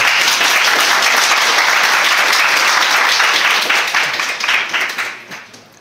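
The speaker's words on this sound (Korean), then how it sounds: "박수로 맞이해주세요" An audience at a research talk claps loudly and steadily to welcome a speaker, a thick burst of many hands that thins out and fades to scattered claps over the last second or so.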